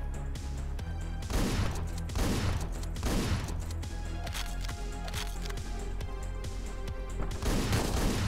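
Rapid bursts of gunfire crack repeatedly over a steady low rumble in the video game Hotline Miami 2, with several loud volleys spaced a second or so apart, all close and loud.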